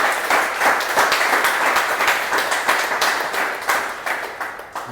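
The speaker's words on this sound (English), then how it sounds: "please give her a big round of applause." Sustained applause from an audience at a Toastmasters club meeting, dense steady clapping throughout with small swells, loud and close, no talking.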